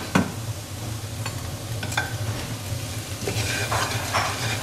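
Onions browning in a pan with cloves, cardamom and cinnamon give a steady close sizzle, broken by a few light knocks of a spoon stirring, with no talking.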